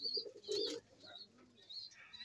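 Quiet, soft cooing from a young racing pigeon, a few low murmuring coos with faint chirps, heard close but at low volume.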